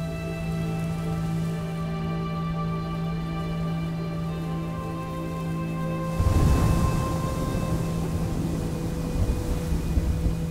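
Freezing rain falls steadily on a snowy, wintry landscape where snowy owls live, a constant hiss under a low drone, growing heavier and closer partway through with denser patter.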